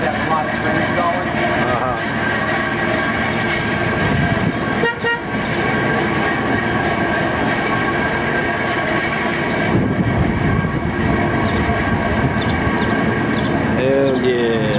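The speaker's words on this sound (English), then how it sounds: "Like, that's a lot of trains going." Trains rolling past near the New Jersey shore, a loud, continuous rumble with wheel clatter and a horn-like tonal drone lasting throughout, with voices mixed in.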